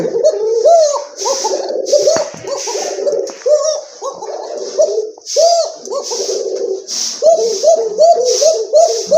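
Fancy pet pigeons, including a male bird, coo in repeated rolling phrases, several birds calling close by in a steady run of throaty coos with brief gaps between them.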